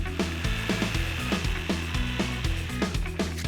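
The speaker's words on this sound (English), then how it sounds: "we're using this Oak Dowel, which is 25mm wide, and we're going to cut that into short lengths" A hand saw cutting through 25mm oak dowel into short lengths, close rhythmic back-and-forth strokes at a steady fast pace, heard alone.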